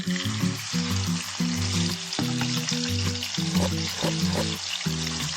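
Garlic fries in cooking oil in a tiny miniature pan, a loud close crackling sizzle heard alone under a repeating tonal musical backing, with no voices.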